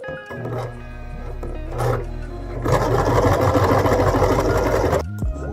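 A sewing machine stitches elastic in a steady, close, mechanical whir that runs almost continuously, speeding into a denser, louder rattle about halfway through before briefly slowing.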